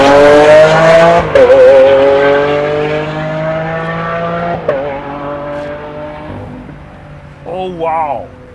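Rolls-Royce-engineered V12 car at a tuning show in Abu Dhabi, loud and close as it accelerates through rising gears, then fading, with a voice shouting briefly near the end.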